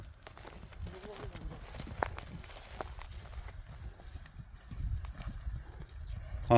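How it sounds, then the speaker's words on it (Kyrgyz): Hooves of a bay horse clip-clop over village ground at a quick, steady pace, a continuous patter of soft, close thuds with faint outdoor background noise and possible voices. "Тез экен, ыкчам экен ат."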